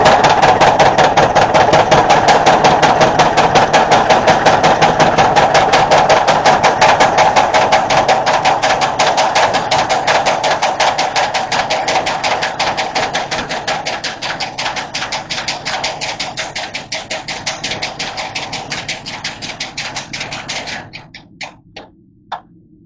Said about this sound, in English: 25-pound little giant power hammer. It's going to make a good racket,